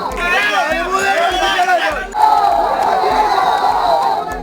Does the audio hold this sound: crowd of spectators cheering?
yes